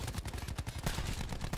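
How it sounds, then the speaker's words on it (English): Rapid automatic gunfire in the video game Black Ops 4, a quick burst of closely spaced shots repeating over under two seconds, fairly quiet and with no talk. "I'm just shooting."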